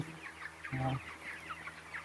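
Soft clucking from 23-day-old broiler chickens, a few short calls close by with a brief louder burst in the middle, over a low steady hum.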